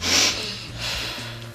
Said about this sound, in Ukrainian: короткий різкий вдих носом, видих довгий ротом